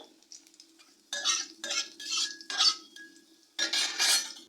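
Panch phoron spices tipped into hot white oil in a pan and stirred, a utensil scraping and clinking against the metal in several loud bursts with short quiet gaps between them. No one speaks.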